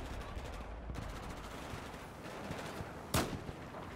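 Battlefield 4 campaign gunfire, a steady rattle of shots under a dense battle din, with one loud sharp crack near the end standing out close by.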